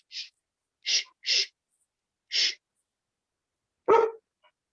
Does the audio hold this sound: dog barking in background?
yes